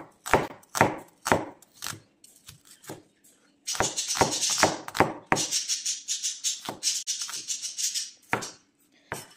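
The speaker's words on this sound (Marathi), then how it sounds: "आता यानंतर आपण कांदे पण अशाच पद्धतीने कट करून घेणार आहोत" A knife cuts onions lengthwise into long strips on a board for Saoji chicken masala. Sharp, close chopping strikes come in uneven bursts, with a brief pause before a denser stretch of rapid cuts.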